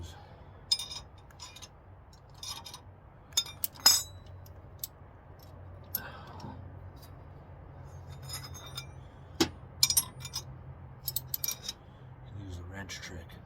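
Sharp metallic clinks and ticks from a wrench sleeved over a socket on a Honda Prelude strut, scattered irregularly and fairly close over a low steady hum.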